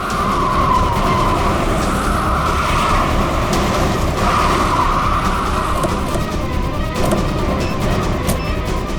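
A car skids loudly and continuously under a dramatic, dense mix of engine roar and tire screech, with no clear pause or speech over it.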